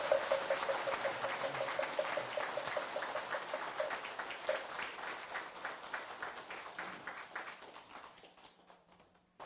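Crowd applause from an assembly at a Buddhist dharma ceremony, a steady dense clapping that holds for most of the clip, then gradually thins and fades toward the end.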